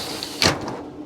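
A sliding partition door shuts inside a mobile medical clinic van with one brief, fairly loud thud-like clack. A quiet background hum runs before and after it.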